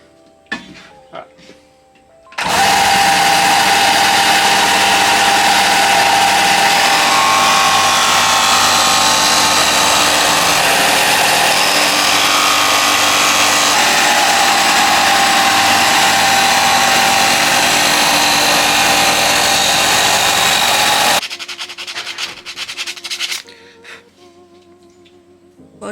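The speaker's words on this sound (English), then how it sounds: "we'll jump onto the sander and give them a sand" A loud power sander roars continuously against wooden DIY stocking hangers for about twenty seconds, starting and stopping abruptly, with quieter handling noises before and after.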